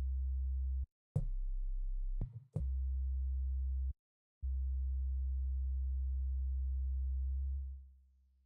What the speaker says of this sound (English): And you're going to see I have a sine wave down here.